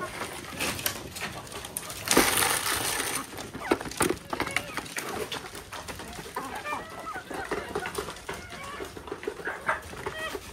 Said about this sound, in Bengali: এই যে পিছন আসতেছে মুরগি সব খাওয়ার জন্য